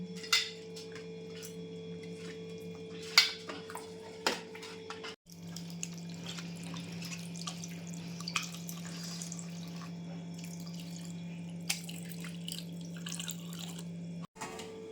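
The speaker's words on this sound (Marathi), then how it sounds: "आणि स्वच्छ 2 ते 3 पाण्याने वॉश करून घेऊया." Fish pieces being washed under running tap water indoors, a faint steady stream and drips with occasional splashes and clinks over a low electrical hum, no voices.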